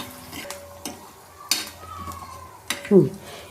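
A spoon stirs chickpea patoli in a frying pan, giving scattered scrapes and metallic clicks over a soft sizzle, with a brief voice near the end.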